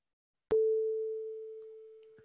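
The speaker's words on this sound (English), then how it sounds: "Now it's kind of sounding like a cheap organ." A live-coded synthesizer produces one organ-like note that strikes sharply, then holds a steady pitch while fading smoothly in an exponential decay, alone and fairly quiet.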